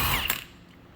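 Milwaukee impact wrench with a 30 mm socket spinning off the front axle nut of a 2010-2015 Toyota Prius, a brief loud rattling burst that quickly fades.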